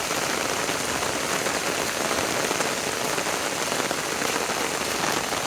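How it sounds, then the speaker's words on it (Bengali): Heavy rain pours steadily beside a flooded village pond, a dense, continuous hiss of drops hitting water and ground, close and unbroken with no voices. "বৃষ্টি থামার নামে কোনো খবরই নেই।"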